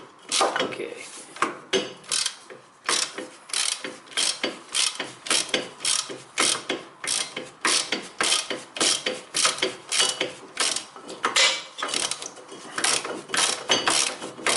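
Rapid ratchet clicking from a wrench loosening a front brake caliper bolt on a 2002–2010 Toyota Corolla, repeated bursts of sharp pawl ticks close up, steady and loud throughout with no talking.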